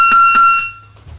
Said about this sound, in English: And that buzzer's really loud.